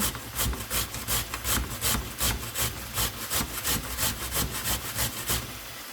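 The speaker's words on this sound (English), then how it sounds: "And you just grate all of your potatoes" Potatoes grated by hand: a quick, steady rhythm of rasping strokes, about three per second, close and fairly loud, with no talking.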